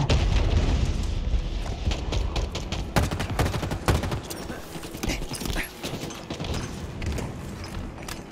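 Gunfire and grenade blasts in the video game Halo Infinite form a dense, continuous barrage of shots and booms that stays loud and fairly close, tapering slightly toward the end.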